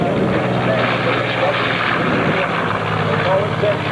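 Loud, steady engine roar of four military aircraft passing overhead at the EAA Oshkosh airshow, a broad droning rumble that stays constant throughout, with a voice faintly audible underneath.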